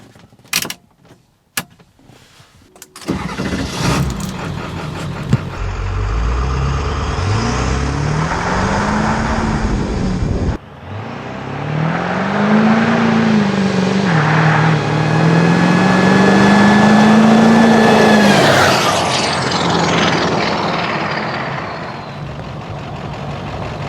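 A 7.3 Powerstroke diesel pickup truck engine with upgraded injectors revs hard and loud, rising and falling through several surges after a few sharp clicks, with the motor close by.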